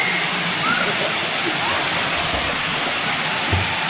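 Rushing water of Daranak Falls in Tanay, Rizal, a steady broadband roar that fills the whole clip at a constant loud level, with faint voices mixed under it.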